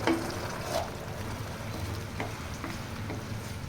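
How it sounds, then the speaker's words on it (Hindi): Powdered spice masala with a splash of water roasting in a pan for green egg tikka masala, giving a steady close sizzle with occasional stirring scrapes, no voices. "मसाले को बहुत अच्छे से भून लेंगे।"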